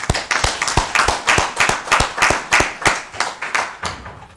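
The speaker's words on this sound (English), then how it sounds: "We received the speech and communication from the Vice Chancellor by applauding and clapping for." A small audience claps for a Vice Chancellor's speech at a ceremony: a few close, sharp hand claps in a steady, fairly even rhythm, alone, with no talk over it.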